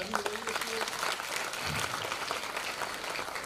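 An audience applauds a student, a burst of close, dense clapping that carries on steadily, with a voice speaking briefly over it.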